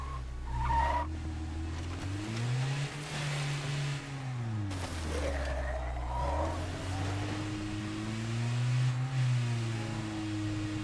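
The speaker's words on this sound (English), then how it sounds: "So we're driving." A car driven in the video game State of Decay 2, its engine note rising and falling as it revs and shifts, with tire skids and squeals across a steady close drone; no voices.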